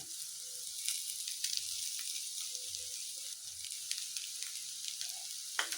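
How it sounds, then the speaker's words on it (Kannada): Mint and coriander leaves fry in oil for Hyderabadi dum biryani, a steady crackling sizzle with faint scattered pops and light stirring, moderately quiet and continuous without speech. "ಸ್ವಲ್ಪ ಎಣ್ಣೆ ಚೆನ್ನಾಗಿ ಫ್ರೈ ಆಗಲಿ ಸೊಪ್ಪೆಲ್ಲ"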